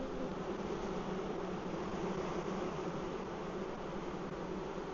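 A queenless honeybee colony thrums inside its hive: a dense, continuous buzzing hum from many bees, close and steady at even loudness throughout, with no talk.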